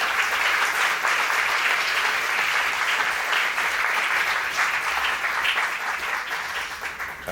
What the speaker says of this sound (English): I would like to just ask for a round of applause to the panel and the curators